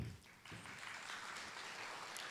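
Audience at a college president's welcome-back address breaking into applause, a faint, steady wash of clapping from a roomful of people.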